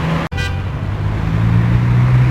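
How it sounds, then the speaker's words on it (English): Busy street traffic in Cuenca, Ecuador, with a steady roar of passing cars, a low engine hum and a brief tone that may be a horn, all fairly close and loud. "Lots of traffic."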